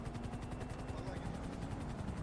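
A helicopter in GTA V thumps with a steady rapid rotor chop and a constant engine drone, loud and continuous throughout.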